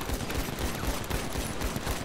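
Rapid gunfire rattles in a GTA roleplay game, a dense burst of shots running steadily through the short stretch at moderate loudness.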